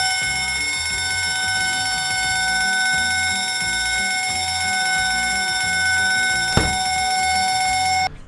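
A loud homemade mega siren rigged as an alarm clock blares continuously with steady, piercing multi-tone wails, holding constant for about eight seconds before cutting off abruptly, with a brief clatter near the end.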